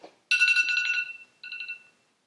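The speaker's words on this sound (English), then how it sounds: "that's my alarm that went off" A phone alarm ringtone set as a daily noon reminder goes off close by in two bright electronic bursts, a longer chiming phrase and then a shorter repeat, with no talking over it.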